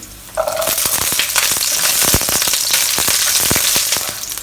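Eight peeled garlic cloves dropped into hot oil over medium heat burst into a loud, dense sizzle with sharp crackling pops that stays strong and close throughout.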